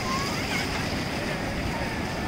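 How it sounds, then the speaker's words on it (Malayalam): Sea waves at Varkala beach, where a backwater meets the sea, make a steady, dense roar of surf mixed with wind rumble that fills the whole stretch without a break. "ഇതാണ് ഞാൻ പറഞ്ഞ കായലും കടലും കൂടെ കൂടിച്ചേരുന്ന ഭാഗം."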